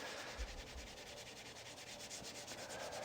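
A wooden self bow is rubbed to knock the gloss off a Tru Oil finish, giving a quiet, steady abrasive scrubbing with rhythmic back-and-forth strokes and no speech.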